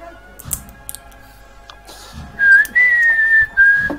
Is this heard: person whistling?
yes